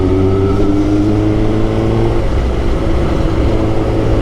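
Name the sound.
Suzuki GSX-R 1000 sport motorcycle engine revving while riding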